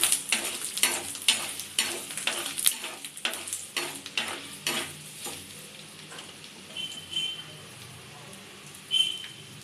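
Garlic and ginger fry in a pan for a thoothuvalai chutney, giving a steady crackling sizzle with scraping stirs and a quick string of sharp spatula clicks early on, then settling into softer sizzling with a brief high tone near the end.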